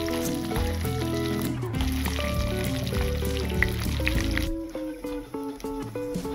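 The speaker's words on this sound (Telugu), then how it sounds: "ఇన్ కేస్ మీ దగ్గర లేకపోతే రిఫైన్డ్ ఆయిల్తో కూడా మీరు పోపు అనేది వేసేసుకోవచ్చు." Tempering spices sizzling in hot mustard oil for a village-style tamarind-leaf dal, a loud continuous frying hiss with crackles, then quieter bursts of sizzle near the end, with music playing throughout.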